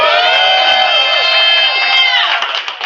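Loud crowd at an open mic and poetry grand slam finals cheering and whooping continuously, with high shouting voices sustained for about three seconds before easing slightly.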